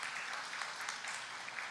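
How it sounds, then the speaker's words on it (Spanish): Faint audience applause for a speaker at a Central American human rights forum, a steady wash of many hands clapping heard from a distance. "para quien pido un fuerte aplauso"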